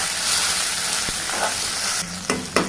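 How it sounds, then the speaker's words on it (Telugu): Salt and turmeric being stirred into a tomato and pigeon pea dal in a hot pan, a loud continuous sizzle with a few scraping spoon strokes near the end, no talking. "ఇప్పుడు రుచికి సరిపడా ఉప్పు, పసుపు వేసి మంచిగా కలుపుకోవాలి."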